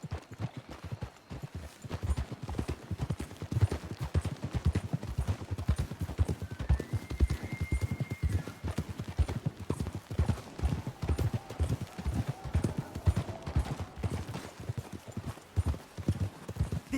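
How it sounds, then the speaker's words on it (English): Horses from the video game Red Dead Redemption 2 plod along with a steady, close clip-clop of hooves, and a brief whinny rises partway through over the continuous hoofbeats. "We should leave the horses."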